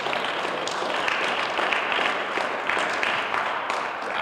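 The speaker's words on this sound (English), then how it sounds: "a round of applause for the work that the legislators do every day" Steady, dense applause from a crowd at an award celebration, continuous and fairly loud throughout with no voices breaking through.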